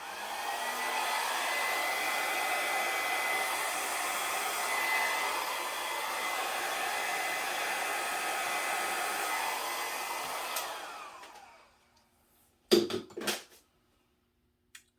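A hair dryer blows steadily and close on acrylic pour paint for about ten seconds, then cuts off abruptly, followed by a few brief clattering knocks.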